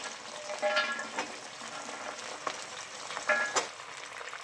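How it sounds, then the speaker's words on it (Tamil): Pirandai (adamant creeper) frying in hot oil for a medicinal preparation, with steady close sizzling and bubbling and a few sharper crackling pops, no voices. "இது எண்ணெய் பொங்குது."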